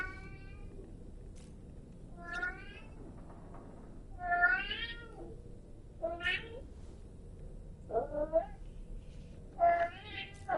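A cat meows repeatedly in the Death Stranding 2 video game, several distinct rising and falling meows spaced over a steady low background hum, fairly close and clear.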